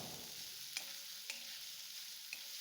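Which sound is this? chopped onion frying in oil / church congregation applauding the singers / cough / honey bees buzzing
chopped onion frying in oil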